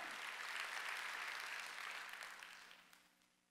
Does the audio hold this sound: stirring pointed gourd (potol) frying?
no